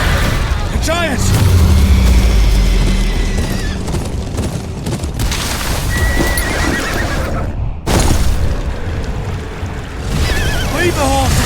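Horses whinny and neigh repeatedly amid hoofbeats, booming impacts and rushing water near a river in a Game of Thrones video game battle, with shouting voices mixed in.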